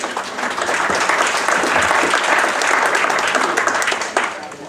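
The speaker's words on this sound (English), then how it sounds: "Give him a big round of applause." At a 2016 photo booth expo in Las Vegas, an audience gives a presenter a big round of applause, a loud, dense burst of clapping that holds steady for several seconds before easing off.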